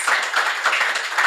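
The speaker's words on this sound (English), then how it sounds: "I'll just request a round of applause for our speakers." Brief, light clapping from a small audience for the speakers at a panel on women using technology and innovation, a few rhythmic bursts of hand claps close by.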